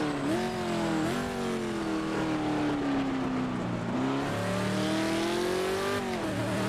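A race car engine in the Project Motor Racing video game on PS5 drones at steady high revs, pitch dipping and climbing as the throttle is held through a tricky corner, loud and continuous with no talk.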